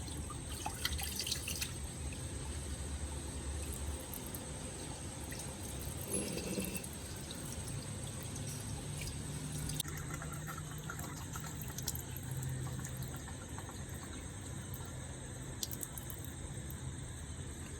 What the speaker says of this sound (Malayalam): ബാക്കിയുള്ള വെള്ളം മൊത്തം ഊറ്റിക്കളയാം